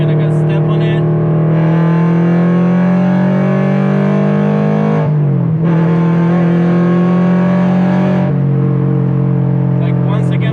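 A car in fifth gear near 80 mph accelerates hard, its engine drone loud and close from inside, pitch climbing steadily, dipping briefly mid-pull, then climbing again.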